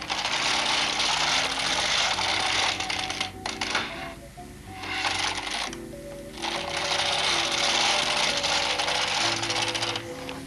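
A Bond knitting machine carriage sliding back and forth to knit two rows, a dense clattering whir with a steady mechanical hum and short gaps at each pass turnaround.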